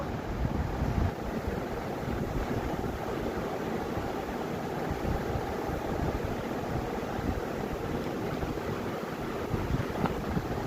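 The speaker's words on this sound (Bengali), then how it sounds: "চিংড়ি মাছগুলো ভেজে নেব" Small peeled shrimp frying in hot oil, a dense, steady crackling hiss that fills the whole stretch without letting up, loud and close, with no talking.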